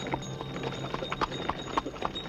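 Horse hooves clip-clopping at a steady walking pace on a hard surface, moderately close, with a low background hum and no talking.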